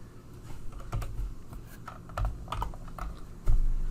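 Keys tapped on a computer keyboard while entering an Alt+1 shortcut in Excel: a handful of separate, fairly close clicks spread across a few seconds, with a slightly louder press at the end.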